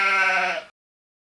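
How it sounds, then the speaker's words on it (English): A single sheep bleats once, a loud close wavering call under a second long that cuts off sharply into silence. "Sheep,"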